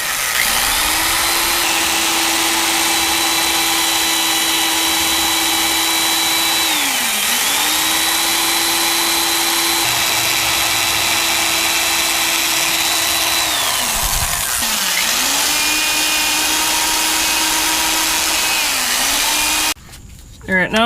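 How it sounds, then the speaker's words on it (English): A power drill bores a series of holes around a car's subframe bushing, its loud steady whine running near continuously and briefly dropping and rising again between holes. "first thing to do is to drill a bunch of holes"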